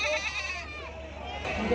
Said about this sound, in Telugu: ఇక్కడ కట్టన పెద్ద సైజు మేకలు